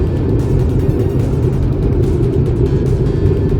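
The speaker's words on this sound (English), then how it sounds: "Now we're driving. A little bit of wind noise, nothing too crazy," Loud, steady rumble of wind and road noise inside a moving Subaru WRX, constant with no talking.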